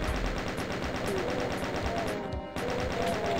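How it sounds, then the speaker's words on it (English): A chain gun in the video game Doom 2 fires in a continuous rapid burst, a dense, steady stream of gunshots that runs almost the whole way through and pauses only briefly. "let's switch to the chain gun"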